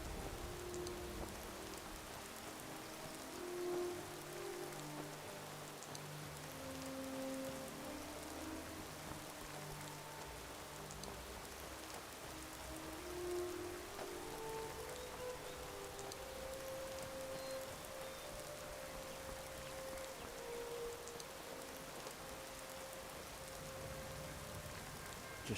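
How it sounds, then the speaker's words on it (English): Heavy rain falls in Skyrim with an ENB preset, a dense steady patter with faint melodic game tones drifting underneath throughout. "I mean, it's fairly heavy rain."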